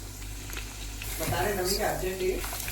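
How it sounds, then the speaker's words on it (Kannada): Soya chunks deep-frying in oil over a medium flame until golden brown, a soft crackling sizzle that swells midway, with low kitchen background sound and no clear talk. "ಇವಾಗ ಇಷ್ಟಾದಮೇಲೆ ಗೋಲ್ಡನ್ ಬ್ರೌನ್ ಬರೋ ತನಕ ನಾವು ಫ್ರೈ ಮಾಡ್ಕೋಬೇಕು"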